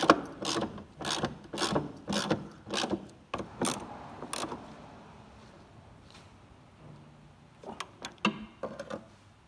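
A ratchet tightens the bolts on a Ford Focus trailing arm bush against the chassis, giving repeated bursts of rapid clicking strokes, a pause, then a few more quick clicks, close and clear with no talk.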